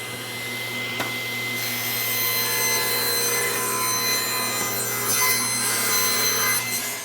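A table saw cuts the second side of a board held on a taper jig, a loud continuous whirring rip with a sharp knock near the start, close and without talk.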